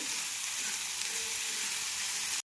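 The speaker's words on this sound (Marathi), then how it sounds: "आता मी त्याच्यात बारीक कट केलेला कांदा टाकणार आहे। कांदा मस्त असा 2 मिनिटांसाठी मला फ्राय करायचा आहे।" Finely chopped onion fries in hot oil for a prawn chutney, an even close sizzling hiss that holds steady and then cuts off abruptly, with no speech.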